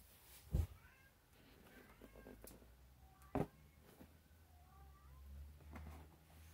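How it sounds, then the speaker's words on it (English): Cats meowing in the background of a room, a couple of short distinct meows with quieter faint mews between them, no talking. "Cats in the background saying it's a good Jordy."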